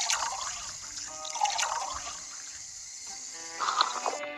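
Cartoonish water pouring into a glass in the Toca World video game, a steady liquid trickle with bright bubbly tones rising as it fills, moderately loud and alone for about four seconds.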